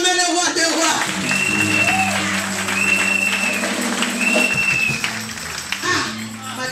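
A church congregation at a Sunday worship and praise service applauds and cheers. Steady, loud clapping with crowd voices runs over sustained music.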